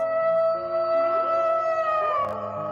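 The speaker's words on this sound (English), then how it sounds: "It's a fox." A fox calling, a sustained tonal howl-like cry with wavering pitch lasting a few seconds, fairly loud and close, with no talk over it.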